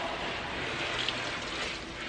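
Water from a hose flushing out a car's wheel wells during tire and wheel detailing, a steady close hiss and splatter that runs without a break.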